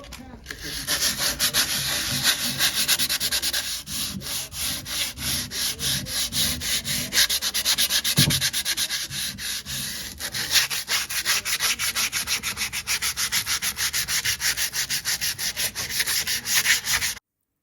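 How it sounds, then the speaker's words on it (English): Continuous scratchy rubbing of sandpaper on wood, rhythmic back-and-forth strokes up close, going on without pause. "So there's a whole bunch of sanding involved"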